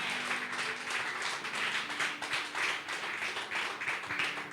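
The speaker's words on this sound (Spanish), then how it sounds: "Si ese aplauso es para Dios, déselo bien fuerte." Loud clapping from a church congregation, with many hands beating in a rhythmic, pulsing pattern that swells and dips steadily throughout, close and full.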